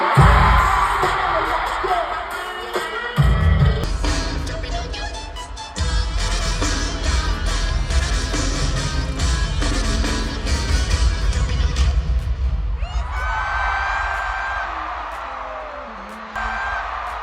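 A loud, dense concert crowd roars and screams continuously over pounding music, with bursts of high shrieking rising and falling throughout.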